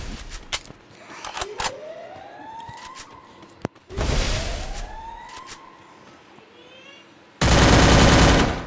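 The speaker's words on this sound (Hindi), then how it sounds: "हवा में गोली चलाते हुए विनीत, अभी तक थोड़ा सा भी डैमेज नहीं दे चुका।" Gunfire in a Free Fire 1v1 match, several loud broadband gun blasts with a sustained burst near the end, between quieter whooshing game effects.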